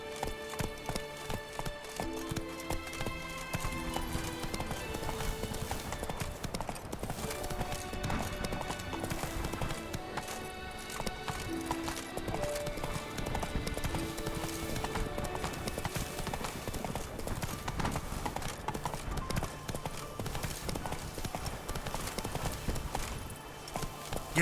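Galloping horse in The Witcher 3: Blood and Wine, rapid clip-clop hoofbeats that continue throughout, mixed with game music and ambience.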